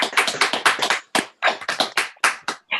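Participants in an online adult class unmute to applaud, giving a burst of clapping in quick uneven groups with brief gaps, close and fairly loud, with no talking.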